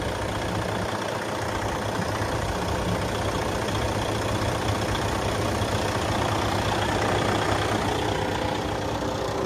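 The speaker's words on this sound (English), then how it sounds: "Just the vibrating of the engine." A 2011 Western Star 4900 combo vacuum truck engine idles steadily, a low, even diesel rumble with constant vibration and no revving, heard alone without voices.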